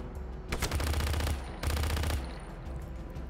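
Automatic gunfire from Just Cause 3, two long rapid bursts with a short break between, loud and close, then fading into lighter ambient noise.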